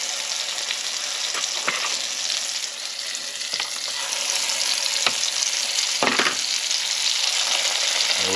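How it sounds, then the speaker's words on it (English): Beyond Meat plant-based meatballs frying in a pan on medium heat, a steady close sizzle with a few soft scraping stirs and taps, no voices. "Now it's time to fry up that other batch. All right, now into the pan we go."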